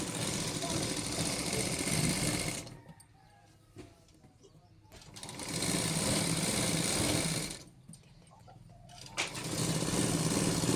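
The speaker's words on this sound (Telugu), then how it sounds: "ఇప్పుడు లైనింగ్ భుజాలు జాయిన్ చేసుకొని దానికి ఇంచు మందం ఇలా కుట్టుకుంటూ రావాలి రౌండ్గా." A sewing machine stitches the lining of a blouse in a round, running loud and close in three whirring bursts separated by quieter pauses.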